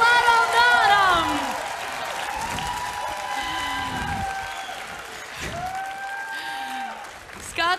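A television talent show studio audience breaks into applause, a broad wash of clapping and crowd noise running under a sung or sustained voice and background music, loudest at the start and easing slightly before a final burst.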